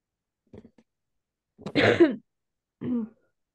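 Three short coughs at the end of a poetry reading, separated by pauses, the middle one loudest and longest, in an otherwise silent room.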